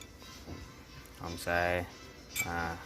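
A utensil clinks and scrapes against a bowl while Lao-style beef laab is stirred, with short bursts of clatter between stretches of lively talk in the background.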